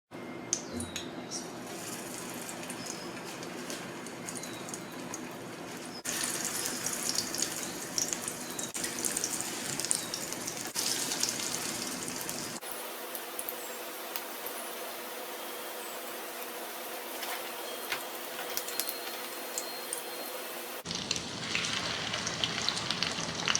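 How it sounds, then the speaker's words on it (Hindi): Beef shami kababs fry in oil with a steady, fairly loud sizzling crackle that continues throughout, its texture shifting in several sections as they cook. "तो चलिए अब इसको हम तलना शुरू करते हैं।"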